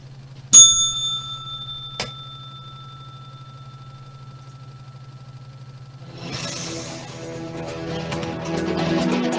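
A bright bell rings sharply twice, the first strike loud with a long ringing tail and the second quicker and softer, over a steady low hum, followed by soft background music.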